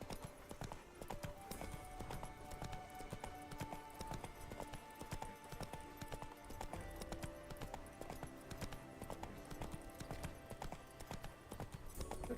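Roach, the horse in The Witcher 3, trots with a rhythmic, continuous clip-clop of hooves, fairly close and steady, with game music faintly underneath.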